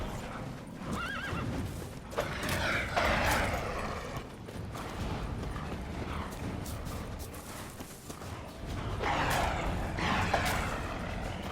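Roach, the horse in The Witcher 3, neighs and whinnies repeatedly alongside steady clip-clop hoofbeats, loud and close, with brief pauses between the calls.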